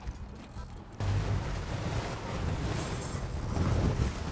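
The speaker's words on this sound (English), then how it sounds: "Fire up the big motor." A big outboard motor on a fishing boat fires up and keeps running, a broad rumbling roar mixed with wind and water noise that stays loud and steady after a quiet start.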